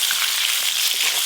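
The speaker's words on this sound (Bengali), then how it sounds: "মাছের ঝালের জন্য কেটে ধুয়ে রাখা বেগুনগুলোও ভালো করে ভেজে নেব।" Cut and washed eggplant pieces fry in oil in a pan, a steady dense sizzle that stays loud and even throughout, with no voices.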